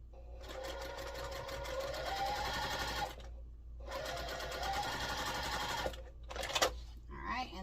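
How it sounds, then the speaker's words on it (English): A sewing machine chain-piecing cotton quilt patches for a star block runs in two long steady bursts with a short pause between, then a brief clatter and a few short stitches at the end. "just going to chain piece these through, and then that way they're already attached"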